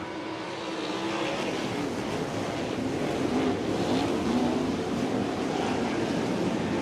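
The engines of a field of 305 sprint cars roar together at the start of a feature race on a dirt track, a steady, dense, loud roar that swells slightly, heard from the grandstand.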